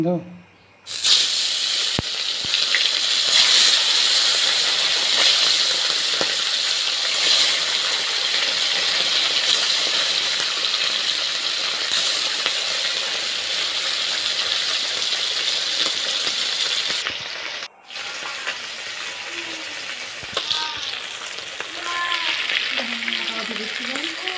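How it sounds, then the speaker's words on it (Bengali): Fish sizzling loudly in hot mustard oil in a wok, a dense steady crackle and hiss across the whole span that dips briefly near the end and then continues with a few sharper pops. "তেল গরম হয়ে গেছে, এবার মাছগুলো দিয়ে দেবো।"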